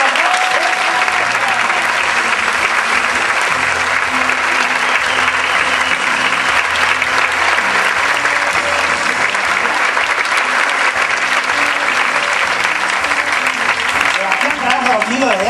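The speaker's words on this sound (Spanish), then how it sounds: "Me van a ayudar a, con un fuerte aplauso, a despedir a mis compañeros de trabajo." A studio audience on an Argentine television program gives a long, loud, sustained burst of applause that holds steady throughout, with crowd noise under the clapping.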